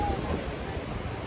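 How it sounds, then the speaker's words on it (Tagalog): Sea waves rolling in at night at Sabang beach in Baler, a steady broadband wash of surf with some wind, continuous and moderately loud with no clear breaks. "nasa sa likod ko yung dagat"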